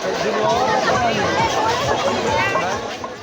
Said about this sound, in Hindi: और लोगों की इतनी भीड़ है, यहाँ सेल लगा हुआ है।